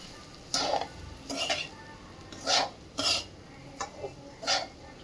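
Dry semolina roasting and stirred in a pan over a medium flame, heard as about six separate scraping, rustling stir strokes with brief quiet gaps between them, close and fairly soft.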